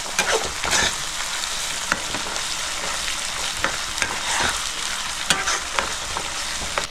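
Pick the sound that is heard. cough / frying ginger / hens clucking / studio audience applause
frying ginger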